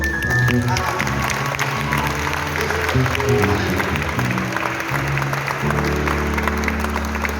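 A church congregation applauds during a sermon, with dense clapping and some cheering layered over sustained musical tones from instruments playing underneath, loud and continuous throughout.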